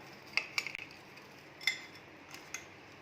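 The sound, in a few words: stirring and mixing papad chaat ingredients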